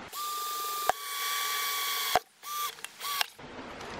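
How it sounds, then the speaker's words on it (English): A hole saw bores into a plastic bucket during a ram pump install on a hog farm, a steady whine sustained in two long runs followed by a few shorter bursts, close and loud, with no talk. "I'm going to just drill right here about midway up the bucket."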